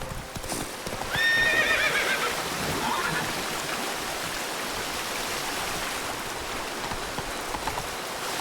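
Roach the horse whinnies loudly in The Witcher 3, then hooves clip-clop in a steady rhythm over a rushing stream, with a faint voice in the background.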